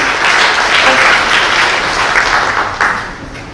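Sustained applause from a seminar audience at an NH NongHyup Bank fintech talk, a dense steady wash of many hands clapping at close range for the whole stretch.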